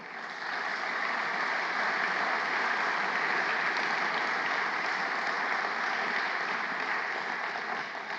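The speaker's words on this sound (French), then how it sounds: "Je vous fais applaudir" Large audience applauding an opening speech at a French business conference; a dense, even wash of clapping from a big hall, sustained and steady at moderate loudness throughout, with no voices over it.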